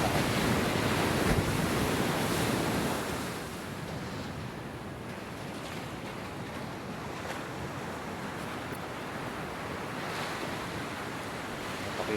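Ocean waves wash continuously onto a beach at early morning, a broad, loud surf roar with steady wind noise on the microphone and no voices.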